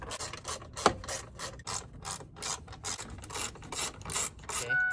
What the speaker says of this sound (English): There's gonna be 4 bolts holding in the gauge cluster. You know, one on each corner, so 1, 2, 3, 4. And they are 7mm, so go ahead and remove those